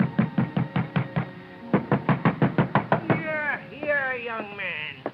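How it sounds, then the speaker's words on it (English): Pounding on an apartment door, a run of loud, close, evenly spaced knocks in two bursts, followed by a voice. "ringing his bell and pounding on his door got me nothing"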